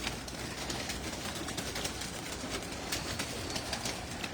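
Soft, continuous cooing comes from a loft of female pigeons roosting in the dark. The low calls run on under a busy, hissing background, and nobody speaks.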